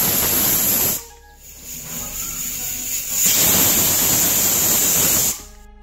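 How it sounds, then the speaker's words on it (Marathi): A pressure cooker cooking moth beans lets off loud, steady steam hisses with a high whistling tone, a long blast, a brief drop, then a second rising hiss that holds and cuts off sharply. "आता याच्या 2 शिट्ट्या झाल्या आहेत"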